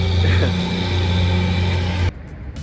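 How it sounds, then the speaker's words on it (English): A cement truck rumbles close by with a low, heavy engine drone that cuts off abruptly, leaving quieter ambient noise behind. "how dare the cement truck get in the way"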